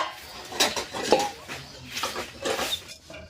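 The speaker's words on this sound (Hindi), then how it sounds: "तब तक बर्तन धो लें जल्दी जल्दी।" Dishes, pots and utensils being washed in a village kitchen, with repeated metallic clinks and clatters of steel vessels and cutlery close by, in irregular bursts over faint background noise.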